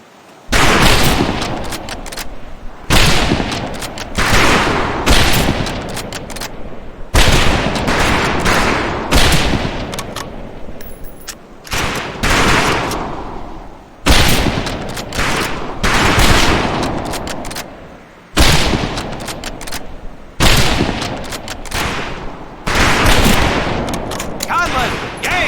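Repeated bursts of rifle fire ring out at a firing range in Medal of Honor: Pacific Assault, loud volleys of several seconds each broken by short pauses.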